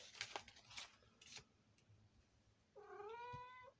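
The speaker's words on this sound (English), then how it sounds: "I don't know if you hear my cat." A house cat gives a drawn-out, wavering meow near the end, after some faint clicks and rustles in a quiet room.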